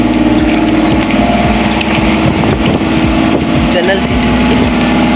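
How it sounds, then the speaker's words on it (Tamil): Engine of a bus carrying passengers on a ride, a loud, steady close drone with rattling and rumble running throughout, with no break or pause. "இங்கே இன்ஜின் இருக்குதுல்ல, ஸோ நல்லா சத்தம் வந்துகிட்டே இருக்கும்."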